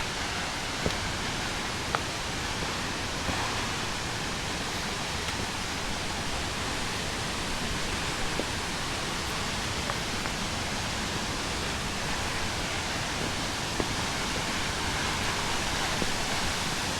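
Comet Falls, a mountain waterfall on a hiking trail, roaring as a steady, dense wash of falling water, loud and unbroken from start to end with only faint ticks over the rush.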